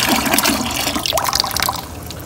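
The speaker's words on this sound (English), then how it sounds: "Let's pour some of the water out." Water poured out of a shoe used as a fish trap, with a splashing gush that thins into trickles and drips over about two seconds, close and fairly loud with no voices.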